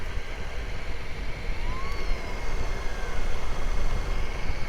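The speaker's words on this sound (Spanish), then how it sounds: "les suena una sirena cada tanto en los peajes" A siren wails at a highway toll booth, its faint rising and falling tone drifting over steady road and traffic rumble, with no talking.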